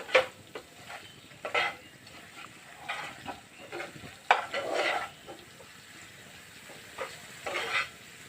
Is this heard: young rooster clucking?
no